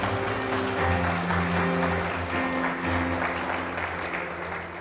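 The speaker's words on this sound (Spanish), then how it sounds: "¿Cuántos aplauden al Señor por eso?" Church congregation applauding the Lord during a sermon, sustained mass clapping with a low organ or keyboard chord droning underneath, holding steady then easing slightly.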